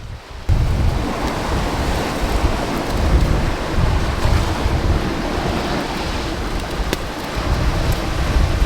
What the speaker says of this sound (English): the waves are crashing in, creating a bit of a background noise